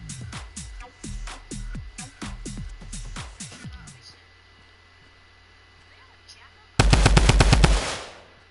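Fortnite video game gunfire: a fast burst of rapid automatic shots, then a quieter lull and a loud dense volley near the end, with players talking around it.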